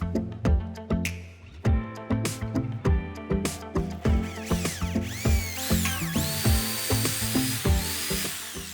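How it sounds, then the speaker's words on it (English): Masonry drill boring holes into a concrete wall with concrete bits for fence post installation, giving repeated close, loud bursts of grinding and whining with short pauses between them. "for that I used concrete drill bits starting with a smaller one and increasing to the final size"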